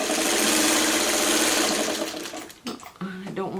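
A sewing machine runs steadily while joining quilt patches for a friendship star block, loud and close, then slows and stops into quieter handling sounds.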